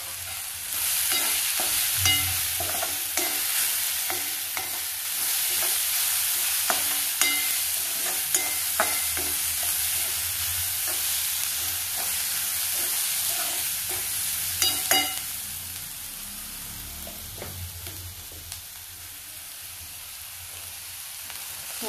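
Onions sizzle in a pan with salt and turmeric while a spoon stirs them, giving an even frying hiss broken by repeated soft scraping taps close by.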